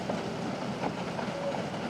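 A train runs over rails while crossing the restored iron bridge over the King River at Tupukina, giving a steady, close, continuous rumble with faint clickety-clack from the wheels and no talk.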